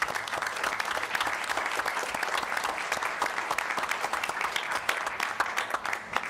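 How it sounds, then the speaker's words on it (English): A meeting audience applauds athletes, a steady dense wash of many hands clapping that holds at full strength for several seconds in a room. "So I give a big round of applause for all of these athletes."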